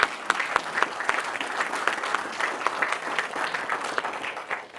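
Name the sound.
round of applause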